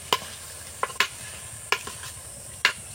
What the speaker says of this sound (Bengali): এবার বন্ধুরা এটাকে আমি ভালো করে নেড়ে চেড়ে নেবো।